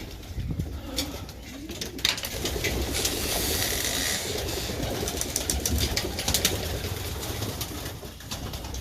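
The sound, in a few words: pigeons cooing in aviary at breakfast time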